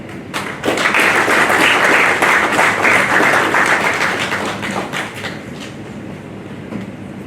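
Sustained applause from a conference audience at a Startup Grind Eswatini event on access to funding, rising fast to a loud, dense wash of clapping that holds for several seconds before slowly thinning and fading.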